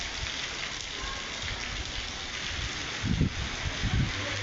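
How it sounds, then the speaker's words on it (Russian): Rain falls in a steady, dense hiss outdoors, with a few soft low thumps near the end and no talking. "Опять под дождь попали."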